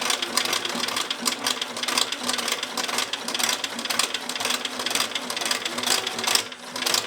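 Sewing machine stitching a mitten seam, a steady fast mechanical whirr of needle strokes running continuously and loud, with a brief slowdown near the end.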